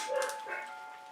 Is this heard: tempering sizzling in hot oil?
no